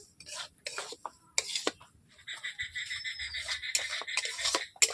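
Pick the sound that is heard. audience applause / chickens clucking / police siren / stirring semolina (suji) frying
stirring semolina (suji) frying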